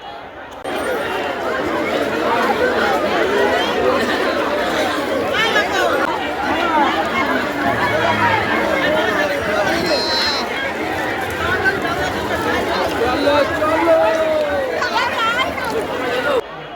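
Dense crowd hubbub at Kakdwip railway station during the Gangasagar Mela, a steady loud babble of many overlapping voices, footsteps and chatter filling the whole stretch without pause.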